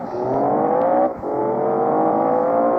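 A vehicle engine holds a loud, steady whine that rises gradually in pitch as it accelerates, with a brief dip near the middle and no talk.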